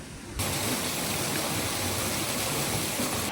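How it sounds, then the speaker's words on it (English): Unseen river water flows near temples in Coorg, Karnataka, making a constant, full rushing roar that starts abruptly and holds steady without speech. "इधर यहाँ पे आपको दिखाई नहीं देता कि पानी कहाँ जा रहा है, but you can hear the sound"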